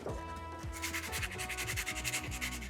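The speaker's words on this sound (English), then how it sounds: "Now that we've scuffed up the entire braking surface of this brake disc" Abrasive pad scuffs the braking surface of an e-bike brake disc with steady rhythmic rubbing strokes, close and continuous, with no talking.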